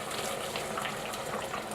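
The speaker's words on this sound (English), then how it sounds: "Let's add some water." Water pours steadily into a pot of Czech goulash, a continuous close gushing splash with no talk over it.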